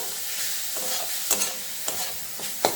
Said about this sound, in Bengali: দিয়ে সব কিছুকে মিশিয়ে নেবো